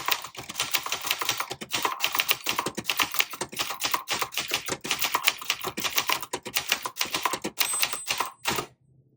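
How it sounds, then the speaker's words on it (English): A 1980 Brother Charger 11 manual typewriter typing lines of text, with rapid, loud, close key strikes in a steady clatter that stops abruptly near the end. "let me do a couple of lines for you, and I'll show you the Brother Charger is very basic"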